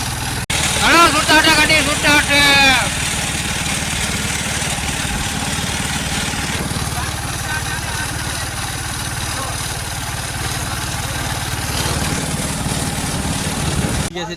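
A tractor engine chugs steadily at idle, a continuous close rumble lasting throughout, with people talking over it near the start.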